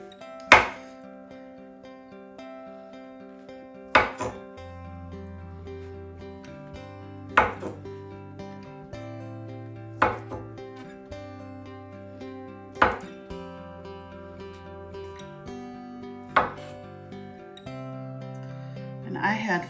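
A knife slices peeled bananas into small rounds on a board, giving about seven crisp, evenly spaced knocks over a steady, soft tonal background.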